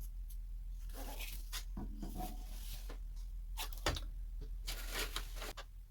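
Small dollar-store scissors cut a playing card close by: a series of quiet, crisp snips and rustles spaced irregularly over a near-silent room.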